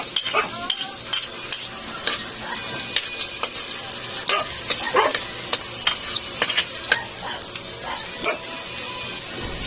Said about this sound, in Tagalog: Pag mainit na ang mantika, maaari na nating igisa ang sibuyas at ang bawang.